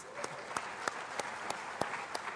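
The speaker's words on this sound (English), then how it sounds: "we can make a warm applause to Andrew" An audience at a conversation show gives a warm round of applause for a guest, a fairly soft, steady clapping with a few sharper individual claps standing out at regular intervals.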